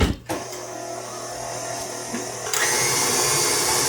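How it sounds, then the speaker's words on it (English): An electric stand mixer whirs steadily on low speed, beating flour into a cooked butter mixture for cream puff dough; the motor hum grows louder and brighter near the end. "We're gonna put it on the mixer on low."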